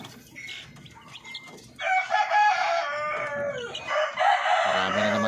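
Chickens and chicks on a Filipino poultry farm with native Darag and Parawakan breeds, a rooster crowing loudly and at length over clucking hens and busy peeping chicks, with some wing flapping, fairly close.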